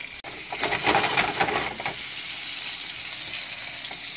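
Bacon frying in a pan gives a steady, close sizzle with crackling that is busiest in the first two seconds and then settles into a softer, even hiss.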